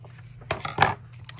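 Scissors trim washi tape paper in a couple of quick snips, two short crisp cuts close by against quiet background.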